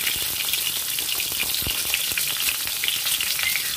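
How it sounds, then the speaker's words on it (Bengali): Eggs and potatoes fry in mustard oil in a kadai, giving a close, continuous crackling sizzle with small bursts of spatter and no talking. "এরপর ডিম আর আলু ফ্রাই করে নেব।"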